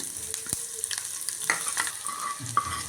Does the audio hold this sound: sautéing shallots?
yes